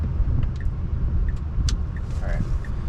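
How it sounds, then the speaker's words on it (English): Cars passing on a downtown Los Gatos street, a steady close road rumble with traffic noise heard from inside a moving car. "Oh, hearing cars."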